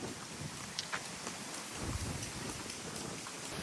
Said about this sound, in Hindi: भाई साहब आंधी और बारिश हो रही है,